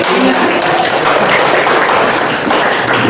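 A classroom crowd applauds loudly and continuously, dense clapping filling the room from start to finish.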